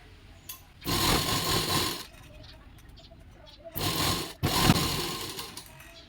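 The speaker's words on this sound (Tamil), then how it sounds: "இந்த கார்னர் வரைக்கும் ஸ்டிச் பண்ணிவிட்டு நீங்கள் என்ன பண்ணுறீங்கன்னா அப்படியே ரிவர்ஸில் இன்னொரு தையல் அதுக்கு மேலேயே" A sewing machine stitching a simple blouse, including a reverse stitch, runs in two bursts of about a second each with a quiet pause between them, close and moderately loud, with no talking.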